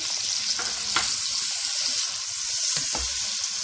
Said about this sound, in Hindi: अब ये मसाला भुन चुका है और इसके ऊपर देखें ये ऑयल आ गया है